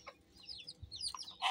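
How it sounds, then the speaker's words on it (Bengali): Small backyard flock of roosters and hens, a few soft, fairly distant clucks and chirpy calls over a quiet background, with a louder burst at the end. "আর দুইটা মোরগ, দুইটা মুরগি এখানে আছে"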